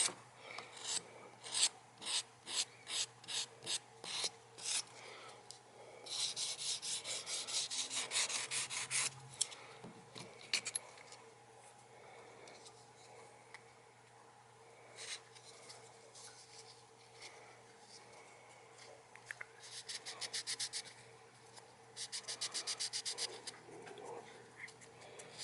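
Close, rhythmic rasping of sandpaper rubbed by hand on a Martin guitar's wooden neck, in quick strokes and longer sustained passes, with brief pauses between bouts.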